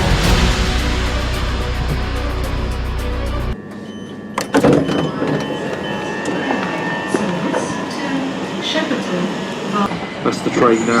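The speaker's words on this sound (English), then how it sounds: "That's the train now arriving on platform 1." A London Overground train pulls into platform 1 with a loud, steady rumble that drops away abruptly, leaving quieter platform ambience, clanks and a voice.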